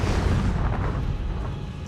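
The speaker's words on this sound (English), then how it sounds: "Definitely sounds like an engine surge." A jet engine surges on a cockpit flight recording of an airliner shortly after takeoff, a loud rough rumbling roar with booming pulses throughout.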